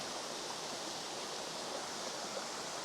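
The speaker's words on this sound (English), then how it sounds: "here's to this chocolate waterfall." A waterfall rushing steadily, a dense even wash of falling water heard close and unbroken, with no voices.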